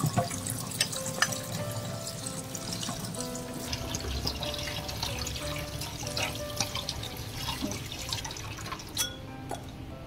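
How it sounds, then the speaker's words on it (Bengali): Cut eggplants are rinsed under a running kitchen tap, with a steady splash of water into a sink, scattered drips and small clinks as the pieces are washed and drained. "এবার এই বেগুনগুলো যাতে কালো না হয়ে যায় তার জন্য আমি একটু ধুয়ে জলটা ভালো করে ঝরিয়ে নেব।"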